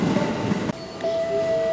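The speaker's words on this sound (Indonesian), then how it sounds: "rekam kereta api Tawang Jaya Premium" A Tawang Jaya Premium passenger train in Indonesia passes with a steady rumble, then a sharp break and a high sustained tonal whine or squeal rising near the end, brief and close.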